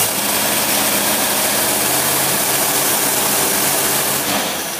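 A boat engine with its carburetor under a torque test runs steadily and loudly, a dense continuous mechanical roar with a low throbbing hum throughout.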